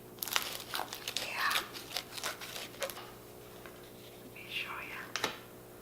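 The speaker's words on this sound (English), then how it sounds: "Hear that crispy crunch?" A knife cuts through crispy Indian fry bread with a few sharp, close crunches and crackles, quiet and spaced out, interrupted by soft whispered talk.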